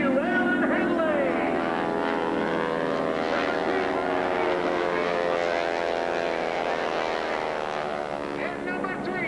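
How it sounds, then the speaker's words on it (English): An aerobatic team's propeller airplane drones steadily at the 2001 Aeroshell air show in Michigan City, Indiana, its engine hum holding loud and continuous, with a public address voice announcing over it. "Holding on to that airplane with only one hand."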